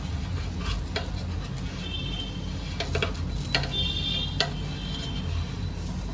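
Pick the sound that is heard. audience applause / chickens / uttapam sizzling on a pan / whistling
uttapam sizzling on a pan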